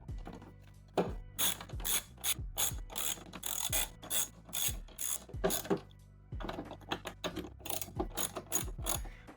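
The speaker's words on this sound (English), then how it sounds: "get our 5/16 and go ahead and start screwing everything back in place" A ratchet with a 5/16 socket clicks in quick repeated bursts while screwing Fiat 500 Abarth filter housing parts back in place. It sounds close and crisp, with short pauses between runs of clicks.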